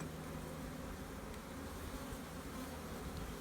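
Honeybees drone steadily around open brood frames of a hive, a dense, constant buzzing close by that fills the whole moment without pause, no voices.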